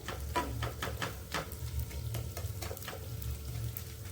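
Edible gum (gond) roasting in ghee in a pan, with a steady close sizzle broken by quick crackling pops and ticks while it is pressed down.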